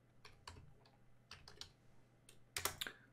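The ipconfig command typed on a computer keyboard: a quiet, close run of key clicks in small bursts, with a louder cluster near the end.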